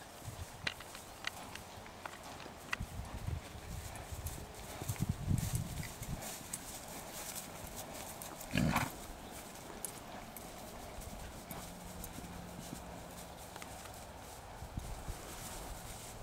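A horse walks with hooves clip-clopping in a steady, unhurried rhythm, fairly faint and a little distant against low outdoor background noise.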